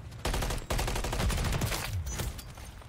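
Rapid bursts of gunfire ring out in a first-person shooter video game, dense automatic volleys with a short pause early on, moderately loud and crackling, with no voices over them.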